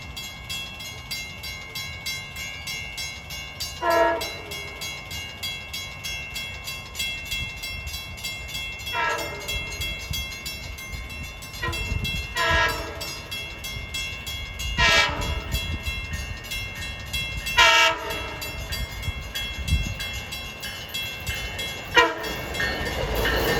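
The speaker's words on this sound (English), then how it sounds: "approaching westbound is 2709 en route from Montauk to Jamaica, rounding the curve into Sayville Station" A westbound Long Island Rail Road train rounds the curve into Sayville Station on the Montauk Branch, sounding repeated loud horn blasts over a steady rumble of wheels and rail noise, with no voices.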